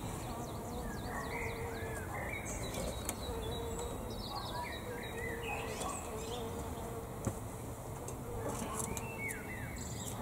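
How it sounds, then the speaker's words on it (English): Birds chirp and call steadily across the whole stretch, with a constant insect-like buzz in the background and faint occasional rustles. "Birds are happy again today, aren't they?"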